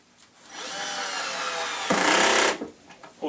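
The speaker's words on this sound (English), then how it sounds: "it's got what's called a ratchet. Here at ratcheting, and it won't strip out your screws" A ratcheting screwdriver drives screws into a Forevermark lazy Susan base kitchen cabinet during assembly, making a steady, close whirring buzz that swells into a louder burst near the end before cutting off.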